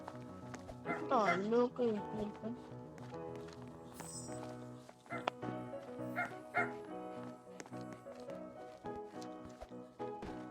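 A pet dog in the Roblox video game barks repeatedly in short yaps and yelps, with a whining sweep early on, while a person talks over the game sounds.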